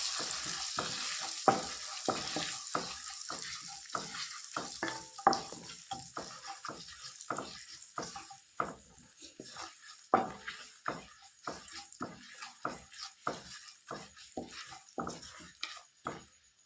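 Spices with asafoetida sizzle in a pan for inji puli, a ginger-tamarind dish, while a spoon scrapes through them in a steady, even rhythm of strokes, close by and fairly quiet with no talking.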